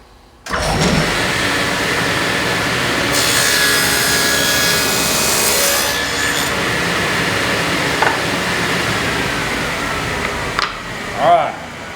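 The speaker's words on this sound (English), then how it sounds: "make our cut" A table saw fitted with a stacked dado set cuts wood, a loud sustained whining roar starting after a brief quiet moment and running steadily for about ten seconds, then spinning down with a few small knocks near the end.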